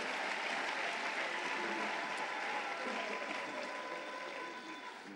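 A church congregation applauding during a sermon, dense sustained clapping from a large crowd that fills the room and fades slightly toward the end.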